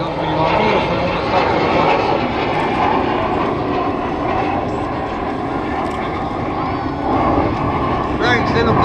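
Propeller airplane flying slowly near minimum speed during an Ämari air show, a steady loud engine drone holding throughout with someone talking over it.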